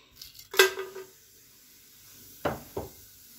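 Whole cinnamon and cloves drop into hot sunflower oil in a pan for biryani, giving a sharp hissing sizzle that fades, followed by two shorter sizzling bursts close by.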